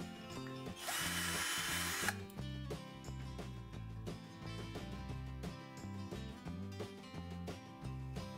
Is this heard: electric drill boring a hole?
yes